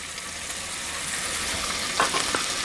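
Onions go into a Dutch oven with browned bacon and fry with a steady, close sizzle, followed by a couple of brief stirring scrapes near the end.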